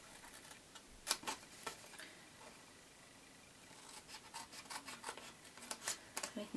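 Scissors snip through scored paper card while a gift box is being made: a couple of sharp isolated cuts early, a quiet pause, then a quick run of crisp, close snips near the end, with no talking.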